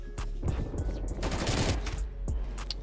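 AK-47 fire in a Call of Duty: Black Ops Cold War match, a steady fusillade of rapid automatic bursts with sharp individual cracks, loud and continuous.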